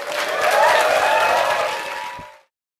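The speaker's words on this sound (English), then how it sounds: "Let's give a big round of applause for Joseph McCarthy." An audience at a Startup Grind event breaks into a big round of applause for iPourIt's president and CEO Joseph McCarthy, dense clapping that swells, holds, then fades out near the end.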